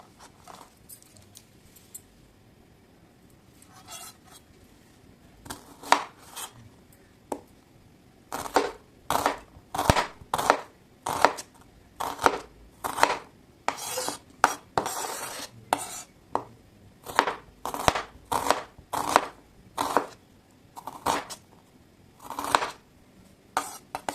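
A kitchen knife chops onions on a board in a steady run of sharp, close taps that start sparse and grow into a quick, even rhythm. No voices are heard.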